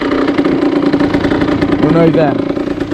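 A Derbi Senda 50cc two-stroke motorcycle engine runs steadily at idle, close and loud, with someone talking over it throughout.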